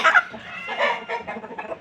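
A chestnut-colored hen clucks in soft, irregular bursts close by, with a few louder squawky notes near the start.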